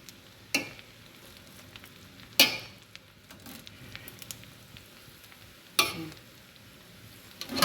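Chicken biryani being stirred in a cooking pot, with a soft continuous sizzle broken by three or four sharp scraping clinks of a utensil against the pot at irregular intervals.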